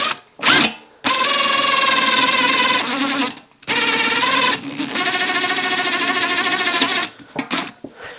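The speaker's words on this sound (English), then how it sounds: "I'm going to use this fairly small drill bit to start with." Small drill bit drilling out a rivet on a broken chicken feeder: a whining, buzzing power-drill motor runs in several bursts with short pauses, close and loud, pitch wavering as the bit bites.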